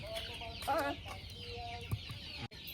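Backyard chickens cluck at feeding time, with a short loud burst of clucks near the start and quieter scattered clucks afterwards over a constant low rural background, close by and without talk.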